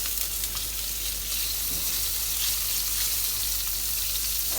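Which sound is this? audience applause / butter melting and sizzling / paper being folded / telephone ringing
butter melting and sizzling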